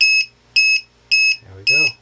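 A Target Hobby 3-in-1 low voltage alarm on a 3-cell pack lets out four sharp, loud, evenly spaced double beeps, each a piercing high tone, with a voice briefly cutting in near the end.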